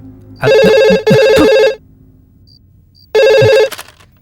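A phone ringtone rings loudly and close in three bursts, two back to back and a third after a short pause, with a faint soft tone in the gap.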